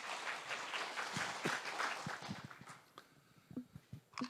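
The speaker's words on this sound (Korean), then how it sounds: "여러분 박수로 맞아주십시오." Conference audience applauding at a green finance session in Seoul, a dense wash of claps that thins out into a few scattered, louder individual claps toward the end.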